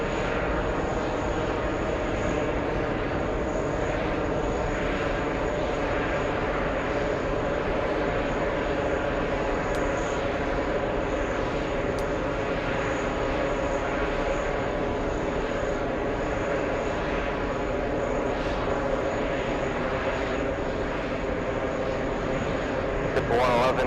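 A JetBlue jet airliner takes off from runway 22 right, its engines giving a sustained, even roar with a tonal whine layered on top, heard steadily and fairly loud throughout.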